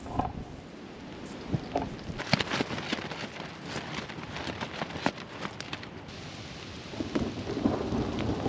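Heavy rain patters steadily on a tent during a camping trip in a thunderstorm, while close thunder rumbles and cracks through the downpour with no voices.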